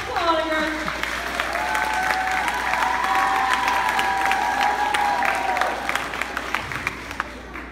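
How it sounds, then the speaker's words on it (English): Audience at a 2016 talent show applauding and cheering, a dense, steady wash of clapping with shouts and whoops over it, sustained for several seconds and then thinning out toward the end. "give him a round of applause all the way from NYC"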